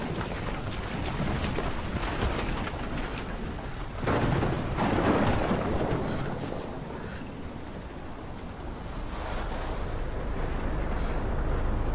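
Thunderstorm in the video game Life is Strange, a heavy roaring wash of wind and rain with deep rolling thunder that swells loud around the middle and again near the end.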